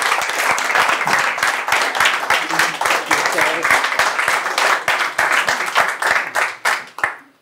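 A studio audience at a Czech talk show claps to welcome a guest, with loud, steady applause carrying a strong rhythmic beat of hands clapping in unison, fading out at the end, while a voice speaks over it.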